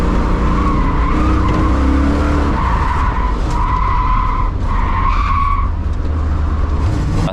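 Tires on a T56 Caprice squeal and skid through a long slide at Road Atlanta as the back end breaks loose under throttle, loud and continuous with the engine droning underneath.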